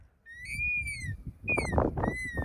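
A CEIA CMD mine detector sounds two high-pitched electronic tones, then another, over close scraping and brushing noises from the ground.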